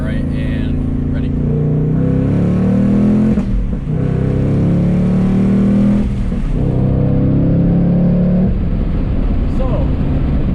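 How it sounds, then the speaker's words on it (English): A 2024 Ford Mustang Dark Horse V8 in track mode pulls hard on a highway on-ramp, a loud, dense engine roar rising through the gears with brief dips at the shifts, heard from inside the car. "as you guys can hear, track mode has some grunt to it."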